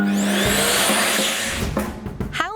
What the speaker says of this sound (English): it's a hand dryer